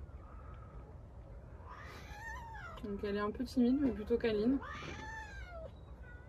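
A shelter cat meows several times in the middle, close and fairly loud, while someone talks before and after the cries.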